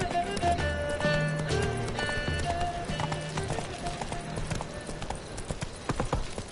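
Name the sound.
horse Roach galloping in video game The Witcher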